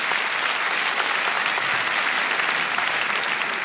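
Dense, steady applause from a comedy show audience, loud and continuous throughout with no break.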